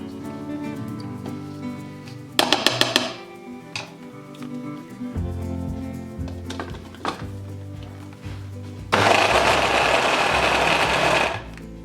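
A food processor mixes thick vegan bliss ball dough in short motor pulses with rattling blade clatter, ending in a louder sustained whirring burst of a few seconds.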